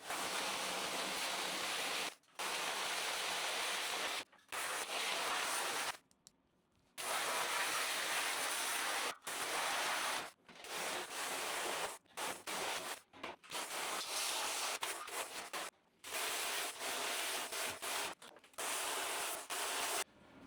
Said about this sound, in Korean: 이 필터는 꼭 안쪽에서 먼저 쏘고 바깥쪽으로 쏘아야 됩니다